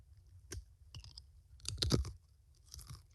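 Someone bites into and chews a crunchy herb and spice cracker, giving a few sharp, close crunches with quiet gaps between them.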